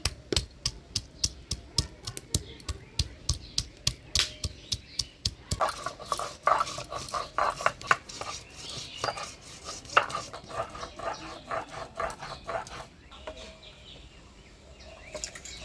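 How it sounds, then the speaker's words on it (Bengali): A steady run of sharp rhythmic knocks as ginger is ground on a stone slab in a village kitchen, the beats fast and even at first, then blurring into denser scraping and pounding, close and fairly loud. "আদা বাইটে নিচ্ছি।"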